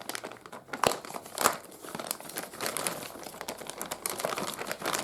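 Plastic wire loom wrap is handled and crinkled close by while an ECU is being wired into a turbo engine, giving irregular crackling and rustling bursts with a couple of sharper crinkles and no talking.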